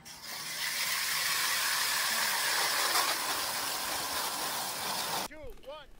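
Steady, even whirring drone of a Strikemaster Lithium 40V electric ice auger drilling through ice, fairly quiet and continuous, stopping abruptly near the end with a few faint chirps after.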